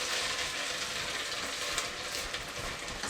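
Ginger-garlic paste and greens fry in a pan for saffron pulao, giving a broad, steady sizzle with a faint stirring scrape under it, close and even throughout.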